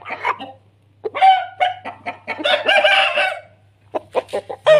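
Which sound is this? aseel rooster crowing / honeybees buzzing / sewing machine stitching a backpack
aseel rooster crowing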